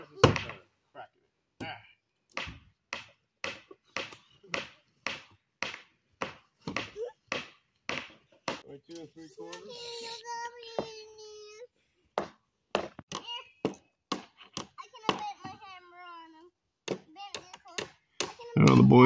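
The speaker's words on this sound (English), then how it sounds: "the boys are knocking nails out of old boards" Hammers knock nails out of old boards while building an outhouse on a homestead, with sharp, close, evenly spaced strikes in a long series and a pause in the middle where a voice speaks.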